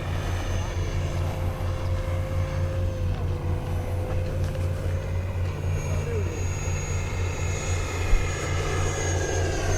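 An FMS F-18 70mm EDF model jet flies outdoors with a steady whine and a whooshing, droning roar that shifts in pitch as it passes. A low engine hum runs underneath, and people talk nearby.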